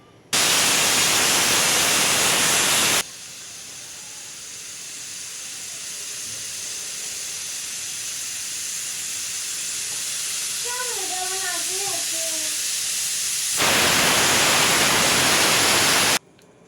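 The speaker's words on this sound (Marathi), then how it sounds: "आपण याला कुकर लावून दोन शिट्ट्या काढून घ्यायच्या आहेत" A pressure cooker holding drumstick soup blasts loud, harsh bursts of hissing steam, one long release at the start and another near the end, with a quieter stretch between carrying faint bird-like chirps.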